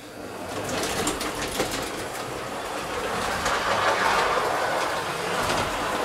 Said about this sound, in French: on va faire un test avec la locomotive pour voir si elle est capable de monter la pente